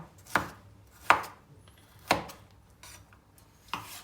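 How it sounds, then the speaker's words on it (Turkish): Knife chops through cucumber cubes on a cutting board: four sharp, separate cuts spaced unevenly, close and clear, with a faint extra tap between them. "son salatalık dilimlememe geçtim"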